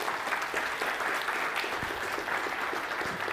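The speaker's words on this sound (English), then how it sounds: "Big round of applause, please" Applause for speaker Roxanne Boonstra after a reef restoration talk at a family reunion event, a full, even burst of many hands clapping together at a steady level throughout the short stretch.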